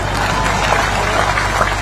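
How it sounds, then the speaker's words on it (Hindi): An audience at a public speech in Belpan claps in a dense, continuous wash of applause that holds steady throughout, with a faint murmur of crowd noise. "बेलपान में ताली नहीं बजा दो तो आगे नहीं पढ़ाऊंगा"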